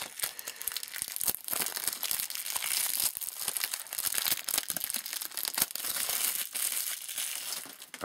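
Plastic shrink wrap is torn and crinkled off a Kirby Dream Collection game box in close, busy bursts of crackling. The rustling runs continuously throughout with no talking.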